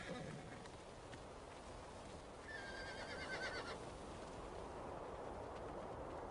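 A wild horse whinnies once in the middle distance in the Red Desert, a high wavering call over a steady low rumble of wind and running hooves.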